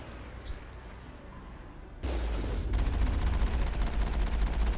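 A heavy turret opens up with sustained gunfire in the video game Mass Effect, a sudden loud burst followed by a steady, rapid stream of shots with a deep rumbling low end, after a quiet ambient lead-in.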